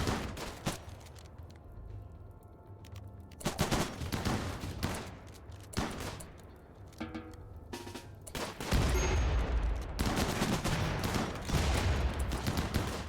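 Gunfire in the Rimworld video game, scattered shots and rapid bursts at varying distances, growing into a denser continuous volley toward the end.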